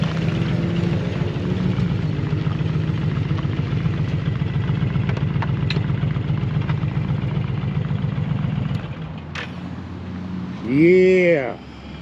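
Harley motorcycles rumble with a loud, pulsing low idle for several seconds before cutting off, followed by a short whooshing pass and brief voices.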